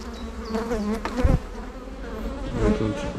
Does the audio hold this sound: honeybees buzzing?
yes